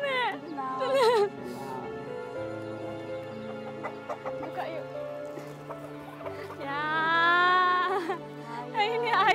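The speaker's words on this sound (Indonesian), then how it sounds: "Ini ayam untuk nenek." Chickens clucking and squawking close by, in bursts, with people talking over them.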